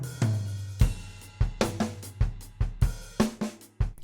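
Acoustic-style drum hits from a natural studio kit in an Ableton drum pack, heard alone as a sequence of individual strikes, kick and snare thumps with ringing tails spaced about half a second apart, moderately loud and close.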